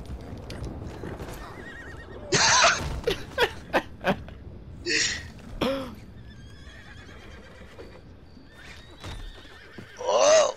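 Horse neighs and whinnies from the game Red Dead Redemption 2 ring out in loud bursts with a quick run of hoof clip-clops between them, then quieter stretches before a final whinny.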